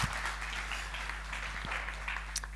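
Brief, fairly soft applause from a conference audience, a scattered patter of clapping over a steady low hum, with no voices.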